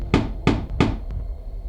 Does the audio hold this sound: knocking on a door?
yes